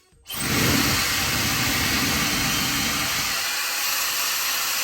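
A Shark Style iQ hair dryer switches on with a click and blows at full air in a loud, steady whoosh, its low rumble easing slightly partway through.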